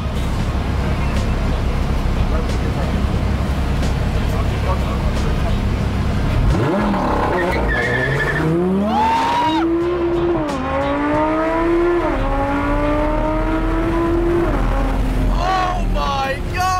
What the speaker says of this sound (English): the launch on the R8 is dumb